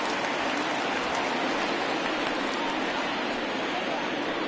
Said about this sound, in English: the conditions aren't ideal with the rain coming down